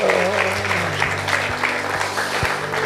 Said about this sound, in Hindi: ताली बजाए, धन्यवाद।